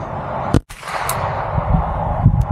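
A Ruger 10/22 rifle fired during target shooting, a single sharp crack near the start over steady background hiss, followed by a fainter second report.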